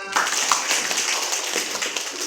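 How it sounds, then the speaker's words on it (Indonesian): A high-school class clapping together, a brief, even burst of many hands beginning sharply and holding at a moderate level throughout. "Ya, tepuk tangan"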